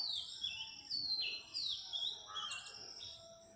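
Small birds chirping outdoors, with repeated high, thin tweets and short trills at moderate distance over faint ambient hiss. No voices are heard.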